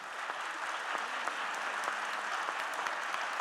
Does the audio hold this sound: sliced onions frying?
no